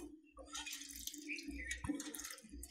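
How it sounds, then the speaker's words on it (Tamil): Water poured into a pan of banana flower and moong dal stir-fry, a short faint trickling splash in a quiet kitchen. "லைட்டாக ஒரு கால் டம்ளர் தண்ணி ஊற்றுனீங்கன்னா போதும்"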